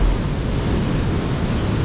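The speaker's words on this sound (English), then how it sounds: "Big waves." Big ocean waves break on a windy Sonoma County rocky shore, a loud continuous roar of surf mixed with wind buffeting the microphone, no voices.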